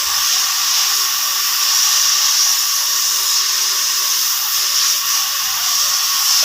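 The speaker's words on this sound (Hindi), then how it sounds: "ताकि बम्पर का जो कोना है वो इस प्लास्टिक वेल्डिंग से जुड़ जाएगा" Plastic welding tool repairing the corner of a car bumper gives a loud, steady high-pitched electric whine that holds unbroken throughout, close and alone.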